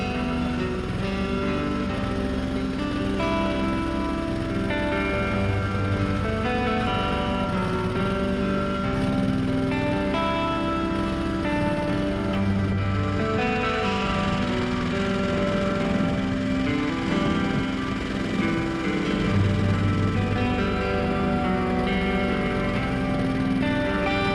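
A small tractor with a backhoe digs dirt in a yard, its engine droning steadily and close at one pitch, rising and falling slightly as it works.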